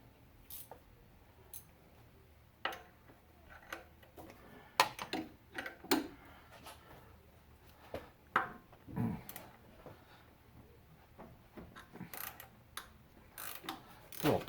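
Ratchet wrench works a motor mount bolt on a 2007 Nissan Altima, sharp clicking bursts and metallic ticks in irregular spurts, close up and fairly quiet, with no talking.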